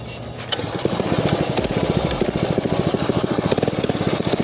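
A Yamaha PW80 two-stroke mini bike engine catches and settles into a fast, loud, rapid-fire putter, with crisp, evenly spaced pulses heard up close.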